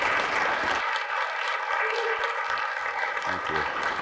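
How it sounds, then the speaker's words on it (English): An audience at an indoor conference session gives a warm round of applause, dense clapping sustained throughout, with some speech at the start and end. "Let's give a huge Seafoot-style round of applause"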